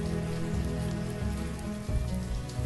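Steady environmental rain falls in the city-building game Banished, a dense constant patter of drops over a layered droning backdrop with no pauses.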